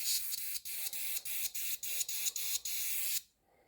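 Aerosol spray bursts over a 1/700 scale Revell Bismarck model, about ten short repeated hisses in a steady rhythm, close and loud, ending in silence.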